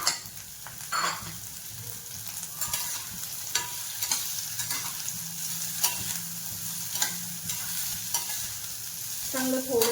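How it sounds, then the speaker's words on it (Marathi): Corn kernels sautéed in a pan for a cafe-style white sauce pasta, a continuous loud sizzle broken by repeated spatula stirs and scrapes, close up with no talking. "चांगलं थोडंसं मऊ होईपर्यंत परतून घ्यायचे"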